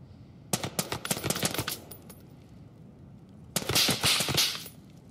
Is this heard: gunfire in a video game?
yes